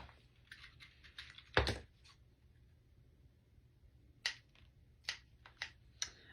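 Scissors snip hearts off a length of ribbon in a quiet room, a string of faint, quick close-up clicks and cuts with one louder snap and brief pauses between, no voices.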